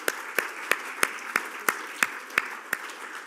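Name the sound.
applause for sponsors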